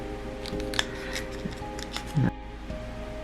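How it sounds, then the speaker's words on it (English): Scissors snip through crocheted yarn, a few soft clicks and then a sharper crunching cut near the end, close and quiet, with no talking. "I'm just going to cut right up the middle"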